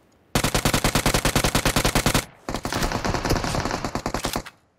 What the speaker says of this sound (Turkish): Nereden sıkıyor çocuk bana?